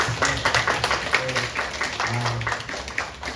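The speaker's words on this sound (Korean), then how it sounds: "그리고 우리 레크와 찬양과 또 우리 보이지 않는 곳에서 일일이 다 간섭하시고 챙겨주신 우리 선생님들을 위해서 한번 박수 한번 합시다" A church youth congregation at a retreat worship service claps for their teachers, a dense patter of many hands mixed with a few voices and some tapping, moderately loud and steady throughout.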